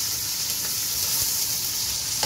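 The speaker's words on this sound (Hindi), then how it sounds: "सबसे पहले मैं प्याज जो है उसको मैं ब्राउन करती हूँ" Onions browning in hot oil for Afghani pulao, a dense, even sizzle close up with faint stirring underneath and no voices over the short stretch.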